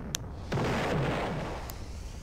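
A bomb blows up in the Roblox game Brick Battle, landing as a loud sudden boom that rolls into a sustained rumbling roar for a couple of seconds, with short sharp pops just before and after.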